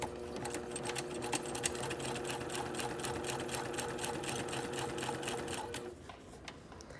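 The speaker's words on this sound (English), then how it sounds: "Just gonna sew right on up, being sure that I pull the seam open" A sewing machine runs fast and steady, edge stitching a garment seam up toward the neckline, a close rapid mechanical chatter that stops just before the end.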